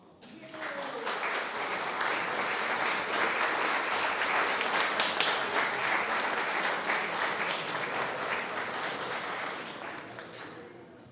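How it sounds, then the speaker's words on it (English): A hall full of people at an art society awards announcement breaks into sustained applause, swelling quickly and holding steady for several seconds before tapering off, with faint voices mixed in. "this young fellow deserves a second round of applause"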